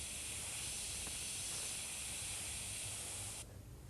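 Steady airbrush or spray gun hiss laying clear coat over a vinyl sticker on a custom helmet, a continuous close spray that cuts off near the end.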